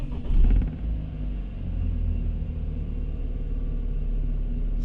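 A BMW 328i F30 with the N20 engine and an Injen aftermarket air intake starts up with a short rumbling burst, then settles into a steady low idle hum that carries on alone.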